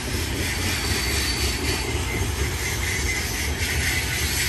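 BNSF SD70 locomotives in Warbonnet paint rolling past at Blue Cut, milepost 65 on Cajon Pass, a loud steady rumble of engines and rail cars with no pause, close by and alone.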